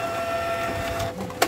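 A Canon iP2770 inkjet printer prints a page with a steady mechanical whir and hum, then a short clack near the end.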